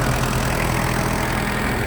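The four-cylinder diesel engine of a Kubota GT-3 mini tractor idles with a steady low rumble and an even, slightly knocking pulse, close and loud, with no voices.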